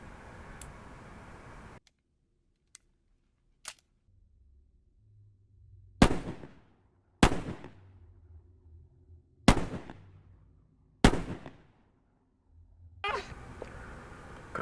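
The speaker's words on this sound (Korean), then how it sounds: "그렇게 4발의 총성이 울리고" Four sharp, loud gunshots ring out a second or two apart, each with a short echoing tail, after a few faint clicks in near silence.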